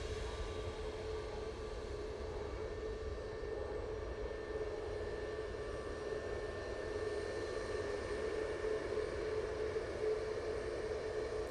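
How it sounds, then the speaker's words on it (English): A steady, moderately distant engine drone with a faint tonal whine from an Airbus A380 Neo jet departing for Athens, holding constant throughout. "This is the one A380 Neo going to Athens."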